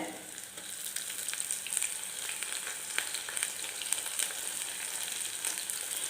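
Coarsely crushed ginger and garlic sautéing with onions in oil for a pepper curry, a soft continuous crackle and hiss with scattered small pops, fairly quiet and close.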